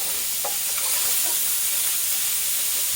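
Food browning in a pan on high heat, turned down a little, while cooking biscuits and gravy: a steady, close sizzling hiss with no talking.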